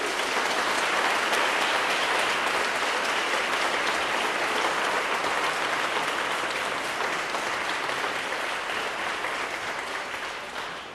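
A church congregation applauds generously at the close of Mass, dense sustained clapping filling the space without pause and tapering slightly at the end.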